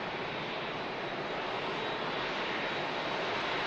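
An Airbus A380 in newer livery taxis past at Manchester Airport, a steady broadband engine roar and rumble holding evenly throughout without talk.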